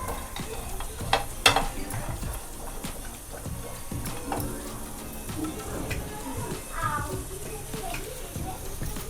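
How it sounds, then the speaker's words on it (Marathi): Coconut and tomato roasting together in a pan for a village-style Marathi mutton rassa, heard as a low, continuous sizzle with stirring scrapes beneath ongoing talk. "खोबरं आणि टोमॅटो याच्यातच भाजून घेणार आहोत."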